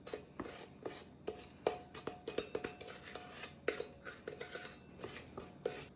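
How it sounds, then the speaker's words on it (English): Spoon scraping and tapping while smoothing cake batter in a buttered, floured 9-inch springform pan for a strawberry ricotta cake; a series of close, quiet scrapes and light clinks in an uneven rhythm. "I'm just using a spoon to make it all flat, smooth it all out"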